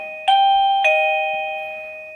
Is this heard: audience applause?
no